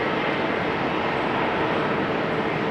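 A SunExpress airliner arrives at a rainy Amsterdam Schiphol Airport, its jet engines making a loud, steady, broadband roar that fills the whole stretch with no talk.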